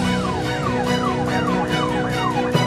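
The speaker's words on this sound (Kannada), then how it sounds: "ಟ್ರಾಫಿಕ್ ಜಾಮ್ ಮಧ್ಯೆ ಆಂಬ್ಯುಲೆನ್ಸ್ಗೆ ದಾರಿ ಮಾಡಿಕೊಟ್ಟಿದ್ದಾರೆ" An ambulance siren wails in repeating rising-and-falling sweeps amid a traffic jam. It is loud and fairly near over a low rumble of road traffic, and a brief clunk sounds near the end.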